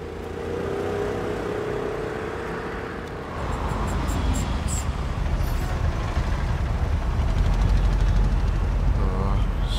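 Busy road traffic from a film action scene, with a steady roar of engines and passing trucks or buses that grows louder midway, plus sharp high hisses like air brakes and horn-like tones near the end.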